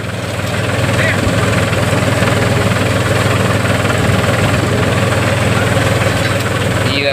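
A tractor engine runs steadily nearby, a loud continuous rumble with no break from start to end.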